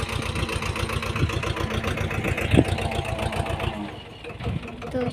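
A tractor engine on a farm runs with a steady, rhythmic chugging throbbing close by, continuous throughout and easing slightly near the end, with voices partly mixed over it.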